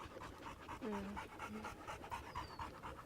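A frightened rescue dog pants in steady quick breaths close by, with faint background noise and a brief high whine-like tone.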